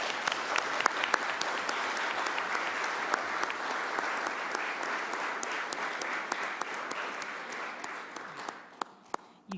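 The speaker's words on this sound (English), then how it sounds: "give her a round of applause" Sustained audience applause at a Board of Education meeting, dense and steady with sharp individual claps, fading toward the end.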